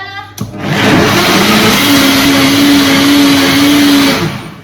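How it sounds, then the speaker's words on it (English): Blender whizzing up a thick vegetable soup with stock, a loud steady whirring roar with a rising motor whine that runs continuously after a brief start, then eases off at the end. "So we're going to whiz that up."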